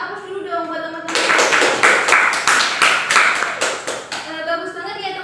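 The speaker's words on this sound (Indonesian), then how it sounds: "kasih aplaus dulu dong buat teman-teman" A classroom audience claps for classmates after their role-play, a burst of lively applause lasting about three seconds, with a voice talking just before and after it.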